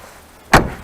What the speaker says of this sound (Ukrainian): Давайте заглянемо під капот цього автомобіля.